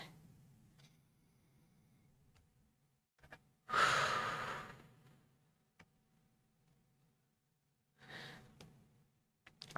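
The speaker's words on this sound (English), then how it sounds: "take a deep breath in" A person takes one deep breath in and lets it out in a long, soft sigh, close and quiet, followed by a few seconds of near silence and then a second, shorter breath.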